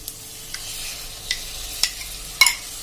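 Okra masala with curd stirred into it over a full flame, spoon scraping the pan in a few soft, spaced strokes against a quiet sizzle, no voices.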